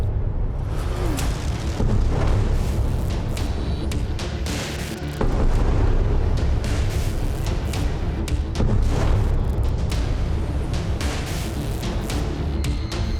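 Israeli air force airstrike explosions in Gaza City, a chaotic stretch of loud booming blasts and rumbling thuds, repeated and overlapping with dense broadband roar throughout.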